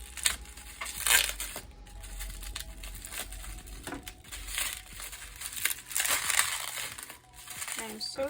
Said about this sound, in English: I am so sorry for all the plastic noises.